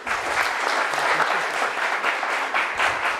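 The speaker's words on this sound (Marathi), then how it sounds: "जोरदार टाळ्या वाजवा त्यांच्यासाठी" An audience at a competitive exam guidance talk claps loudly and steadily, a dense wash of applause with rhythmic swells that carries on throughout.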